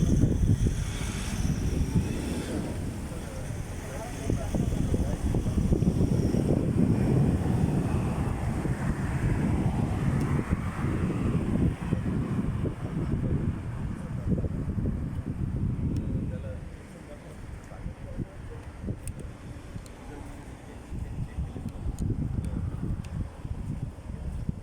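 Wind blowing outdoors in Dubai, a steady buffeting roar across the microphone that eases off partway through, with a voice talking under it.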